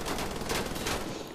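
Rapid automatic gunfire bursts loud and close in Wolfenstein: The Old Blood, a dense volley of shots over about a second before tailing off.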